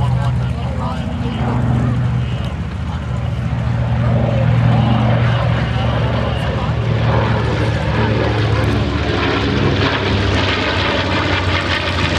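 Vintage warbird aircraft engines drone loudly and continuously during flight operations at a beach air show, a broad steady roar that swells slightly, with an announcer talking over it.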